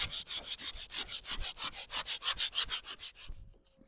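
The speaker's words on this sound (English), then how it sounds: "I love sanding hickory." Steady rhythmic rubbing of sandpaper back and forth on hickory wood by hand, close and brisk, about six strokes a second, stopping abruptly near the end.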